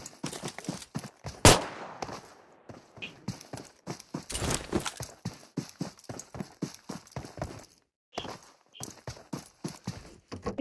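Rapid bursts of gunfire in the mobile battle royale game BGMI, loud repeated shots in quick clusters with brief pauses, some sharp single cracks standing out, no talk over them.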